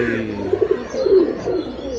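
Pigeons in a loft coo in low, warbling phrases at close range, a few overlapping calls rising and falling over a steady hum of background noise.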